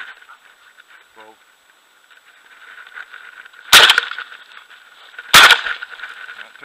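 Two loud, sharp shotgun blasts a second and a half apart during a morning Eurasian dove hunt in Idaho, the second following the first quickly, with a faint bird call and quiet outdoor ambience before them.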